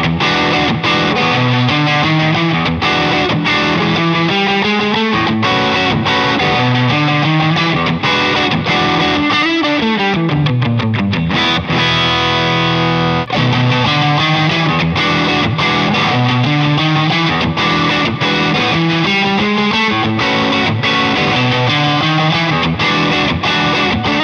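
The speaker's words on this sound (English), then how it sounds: "I'm using the same distortion sound coming from the King of Tone pedal." Heavily distorted Telecaster electric guitar through a King of Tone overdrive pedal, playing chords and melodic lines continuously, with a thick, saturated, overdriven tone and sustained notes, no voices.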